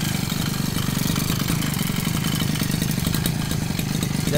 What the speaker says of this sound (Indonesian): Jadi mesin ini gampang sekali dihidupkan.